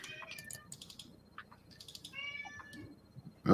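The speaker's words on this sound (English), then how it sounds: "Oh, I hear a cat, and it's not mine for once." A cat meows several times in short bursts indoors, fairly close and moderately loud, with soft keyboard typing or clicking underneath and no talk.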